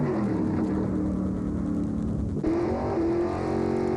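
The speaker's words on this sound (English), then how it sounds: "Off the line they go, and the muscle car is showing its muscle" A powerful muscle car engine at a drag race roars steadily at high revs, shifting pitch partway through as it keeps accelerating, loud and close.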